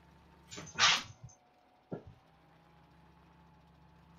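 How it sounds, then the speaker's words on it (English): A dog close by lets out a brief noisy outburst, a sharp burst followed by a shorter second sound, over a low steady hum with no talking. "That was my dog."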